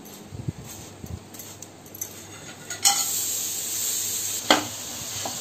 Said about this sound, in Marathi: आता हे गुळ आणि हे मिक्स करून खोबरं टाकते याच्यामध्ये